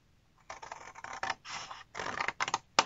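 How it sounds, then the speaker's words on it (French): Scissors snip through a paper square in a series of short crisp cuts, close and fairly quiet, arriving in uneven bursts with small pauses between them. "On coupe à peu près à la moitié du carré"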